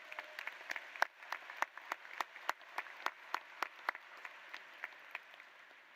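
A graduation ceremony crowd claps steadily at a moderate distance, with sharper individual claps standing out from the sustained patter of applause.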